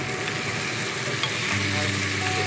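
Spice paste for a lyata fish curry fries in oil with a dense, continuous sizzle. The sizzle stays loud and steady throughout, with a low hum that grows slightly stronger toward the end.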